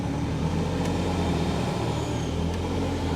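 A Ford RS200 Group B rally car heard from inside as a steady, loud engine drone with heavy low rumble, constant and close, and no other sounds standing out.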